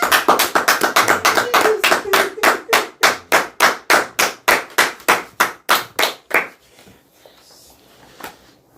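Rhythmic unison clapping from a church congregation, steady loud claps about three per second for six seconds, then stopping abruptly and leaving a quiet room.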